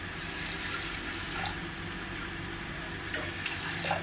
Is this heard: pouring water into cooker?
yes